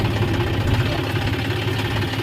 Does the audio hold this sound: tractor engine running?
yes